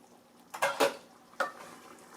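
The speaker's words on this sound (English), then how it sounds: "Stir, put the lid back on, and let it continue." Beef stew getting stirred in a pot, then the lid set back on, with a few quiet clattering scrapes and a soft clunk against a faint kitchen background.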